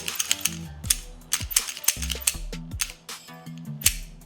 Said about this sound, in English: Each time I pull it back and forth, the oil is going up and down the slide.